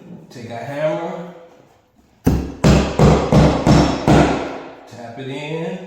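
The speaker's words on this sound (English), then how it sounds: "Then take a hammer," Hammer blows on nails into a hardwood floor during repair, five or six sharp, loud strikes in steady rhythm, with someone talking before and after.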